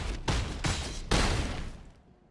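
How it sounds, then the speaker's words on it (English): An explosion effect from the Magic Arena card game, made of three loud, sharp, booming bursts in quick succession, the last decaying into a fading rumble. "That's a pre-death explosion right there."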